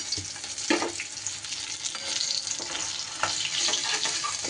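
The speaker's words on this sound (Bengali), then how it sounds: "এদিকে মাছগুলোও কিন্তু আমার সুন্দর করে ভাজা হয়ে গেছে।" Rohu fish pieces fry in hot oil with a continuous close sizzle and crackle, punctuated by a few sharper spatters and scraping stirs.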